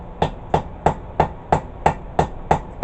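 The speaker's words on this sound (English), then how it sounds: "just hitting her with the flat part of the rounding hammer here" The flat face of a rounding hammer strikes metal while a herb chopper is forged, giving eight sharp, evenly spaced blows about a third of a second apart, close and loud with no talk.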